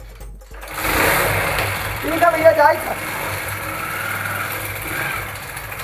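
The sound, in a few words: motorcycle engine running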